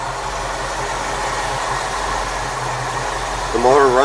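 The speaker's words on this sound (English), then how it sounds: "The motor runs like a top." A 1966 Ford Mustang engine idles in a steady low rumble, loud and close, holding an even pulse until a voice begins talking over it near the end.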